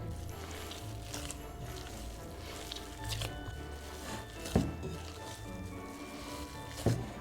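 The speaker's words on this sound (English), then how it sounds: "And then continue kneading." Vegan roast beef dough with olive oil being kneaded by hand on a counter, faint soft squishing and slapping with two sharper pats.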